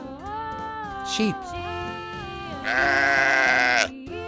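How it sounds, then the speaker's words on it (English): A sheep bleats several times up close, wavering calls ending in one longer, louder bleat, with no talking. "Sheep."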